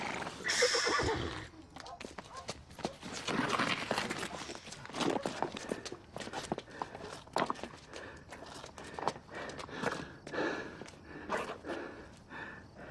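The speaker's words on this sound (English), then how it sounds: "Leave the horse alone!" A horse whinnies loudly at the start, followed by scuffling hooves, snorts and agitated movement, with shouting voices mixed in.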